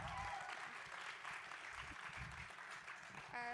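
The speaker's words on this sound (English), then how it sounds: "Everyone could just give her another round of applause." An audience claps steadily at low volume, a soft wash of applause with no voices standing out.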